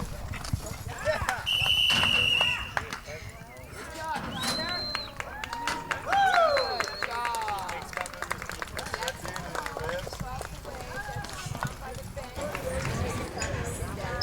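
A horse gallops through rodeo training, its hooves drumming a quick, continuous clip-clop at moderate distance, with people shouting and talking over it.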